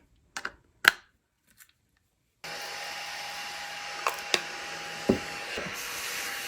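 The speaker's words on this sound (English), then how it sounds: "This is a tabletop vacuum cleaner." Small tabletop vacuum cleaner switches on after a few light taps and clicks, then runs as a steady, fairly quiet whine with occasional knocks against it, no talking.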